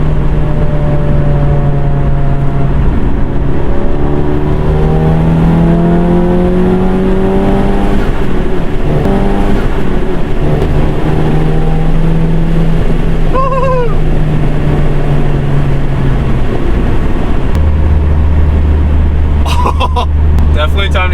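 A Stage 2 tuned VW Mk7 Golf GTI pulls hard on the interstate, its engine note rising and falling through gears over steady road and wind noise, with a brief higher whine midway and people talking over it.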